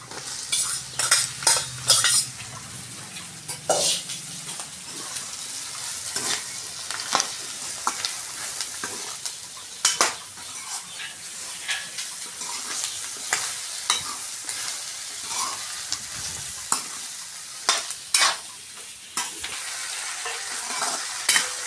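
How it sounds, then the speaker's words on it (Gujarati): Okra pan-roasting with cumin seeds, salt and garam masala, stirred by a spoon that scrapes and clacks against the pan in irregular bursts over a soft, steady sizzle. "હવે મિક્સ કરી લઈએ આઠથી દસ મિનિટ સુધી ભીંડા શેકાવા દઈશું"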